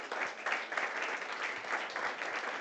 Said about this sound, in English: I want a big applause to Mark.